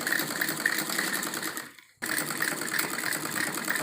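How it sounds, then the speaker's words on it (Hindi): A sewing machine stitches salwar panels together with a half-inch seam, running in a fast steady whir that stops briefly for about half a second before starting again at the same pace. "इनको हम इसके साथ इस तरह से आधा इंच की सिलाई लगाते हुए जोड़ देंगे दोनों कली के साथ।"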